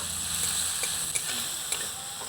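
Tomatoes with salt sizzle steadily as they are stirred in a frying pan, a continuous close hiss broken by a few soft scraping clicks.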